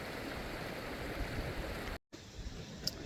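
A crisp mountain river on the Maroon Bells hike rushes in a steady, close wash of broadband noise, with a brief dropout near the two-second mark before the flow resumes.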